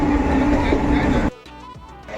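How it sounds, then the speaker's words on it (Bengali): A moving train rumbles loudly with steady rolling noise for over a second, then cuts to quieter sounds with a voice. "কলাইগুন্ডা থেকে আমাদের ট্রেনটা এখন ছেড়ে দিয়েছে"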